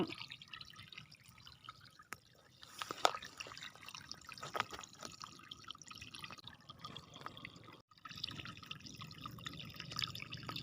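Water spills from a broken paddy dike in a steady, waterfall-like stream, with rushing flow and scattered drips and splashes outdoors, moderately loud and continuous, no voices.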